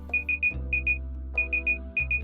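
Temperature alarm of a Combat BRS v5 HIVEC system: crisp electronic beeps in quick groups of two or three, repeating at short intervals over a low steady machine hum.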